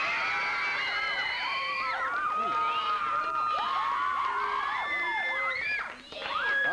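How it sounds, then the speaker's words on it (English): A crowd at a campus quiz contest cheers and whoops loudly for the St. Christopher's team, high excited voices overlapping continuously before dipping briefly near the end. "There they are, St. Christopher's. Big round of applause for them."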